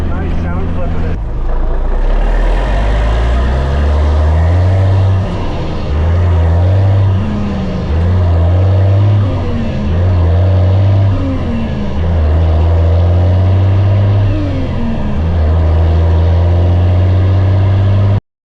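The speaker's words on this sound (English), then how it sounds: "the old, call it the Desert Storm Army truck. It's great. Probably the most offensive sounding potato truck around." An old Desert Storm–era Army potato truck on a farm runs loud and close, its engine droning with a deep rough rumble that rises and falls as it revs, steady throughout with no break.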